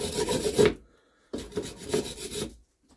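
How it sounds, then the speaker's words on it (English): A small wire brush soaked in diesel scrubs seized bolts on a vintage scrap yard engine, producing loud, coarse rasping strokes in two bursts with a brief silent pause between them. "Let me get in there with a smaller wire brush."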